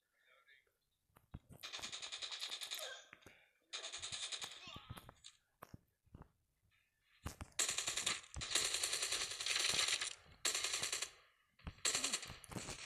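Bursts of automatic gunfire in the mobile shooter game Call of Duty Mobile, loud rapid strings separated by short pauses, with a player talking excitedly over the shooting.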